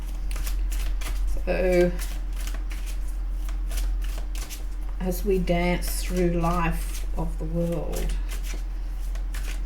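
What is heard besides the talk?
shuffling tarot cards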